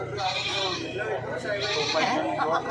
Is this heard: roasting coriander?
no